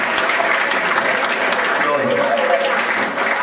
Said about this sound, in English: I think we ought to give all the Melendreses a big round of applause, a big hand.